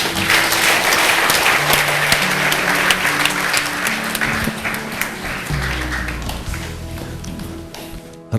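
Loud, sustained applause fills a church as a congregation claps for God, dense and continuous throughout, with sustained organ or keyboard tones underneath.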